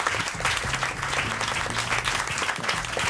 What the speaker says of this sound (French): Et qu'on peut l'applaudir.